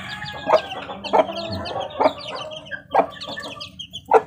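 Young chicks peep and cluck close by in a series of short, sharp calls at irregular intervals, with quieter chirps between them.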